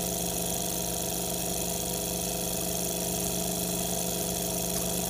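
A Sunnytech mini hot air Stirling engine runs with a continuous, even mechanical hum and light rattle, close and steady.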